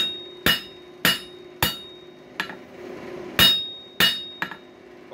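Hammer blows on hot metal at a forge while working a nail header, about seven sharp ringing strikes in an uneven rhythm, close and loud, with a metallic clink trailing each hit.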